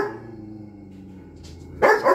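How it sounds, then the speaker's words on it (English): A husky lying on a couch gives a couple of loud, close barks at the very end, after a quiet stretch of low background hum. "He's lying on the couch barking"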